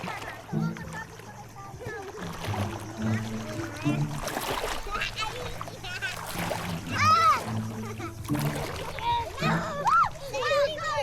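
Children swim and splash in the sea at BM Beach in Puerto Princesa, Palawan, with water sloshing and splattering under lively chatter and kids' voices throughout.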